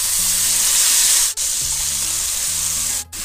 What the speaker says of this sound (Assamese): আর এই মশলাখিনি আমি ভালদরে ভাজি লব লাগিব